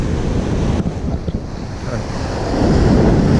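Ocean waves wash against rocks along an island shoreline, a steady surf roar with wind, swelling louder toward the end as a wave breaks close by.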